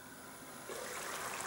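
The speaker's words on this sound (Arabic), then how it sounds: "انا باش نرمي الروز" Dry rice poured into a copper pot of half-cooked fava beans with water, giving a steady rushing, pattering hiss that swells louder halfway through and keeps going to the end, close by with no talking.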